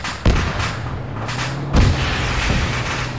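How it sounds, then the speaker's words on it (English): Gunfire aimed at a tank in the video game Arma 3, two heavy booming shots about a second and a half apart over a continuous rumbling engine drone, loud and close. "Are we firing at the tank?"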